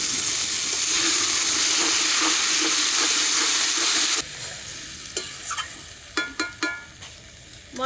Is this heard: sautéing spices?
yes